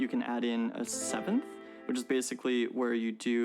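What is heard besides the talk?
No everyday noise stands out behind the speech.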